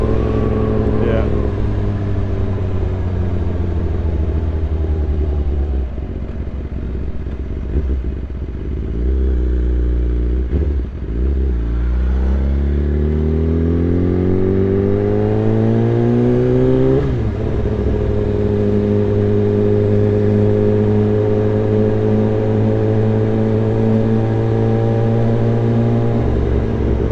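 A BMW S1000RR with a full Akrapovic exhaust system rides through a UK town at night, its engine drone loud and close throughout, rising and falling in pitch through gear changes and a long climbing rev, with a voice talking underneath.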